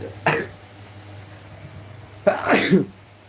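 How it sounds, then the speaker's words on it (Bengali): Two separate sneezes, a short one near the start and a louder, longer one later, over a low steady hum. "এমনি হাঁচি সর্দি লেগেই আছে"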